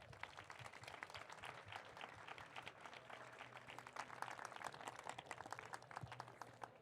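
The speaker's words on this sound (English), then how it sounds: "Let's give everyone a big round of applause." An audience claps for a women's elite panel at an ultramarathon event. The applause is steady and fairly distant, with individual claps standing out throughout.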